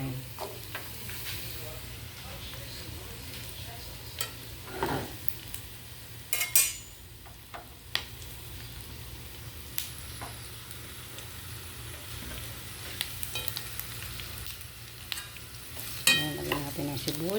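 Onions frying in a pan for lechon paksiw, a soft continuous sizzle under a low hum, broken by scattered stirring and clinks of utensils against the pan.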